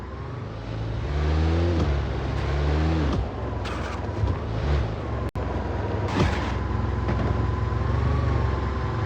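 A game car engine drones steadily, revving and accelerating with rising pitch sweeps and gear changes, loud and close throughout, with a brief dropout midway and no talk.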